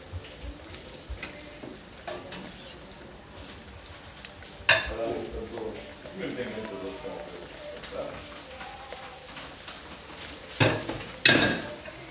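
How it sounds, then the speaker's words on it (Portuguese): Tuna coxinha frying in a pan as a utensil stirs them, with scattered clinks and scrapes against the pan and a faint sizzle underneath, near and moderate, while a person talks over it. "Enquanto a coxinha está fritando, ela tem que mexer para ela não pegar."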